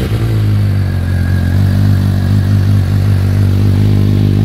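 Several motorcycles idle and rumble together on a motor show floor where Kawasaki Ninja 400 and Z900RS bikes are on display, giving a loud, steady, low engine drone that fills the whole moment with no talking.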